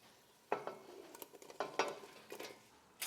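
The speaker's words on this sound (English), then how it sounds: "So I'm adding everything else now. My green beans, stringless string beans." Stringless green beans tumbling into a pressure cooker, a few soft clattering drops and shuffles in bursts, close and fairly quiet, with no talking.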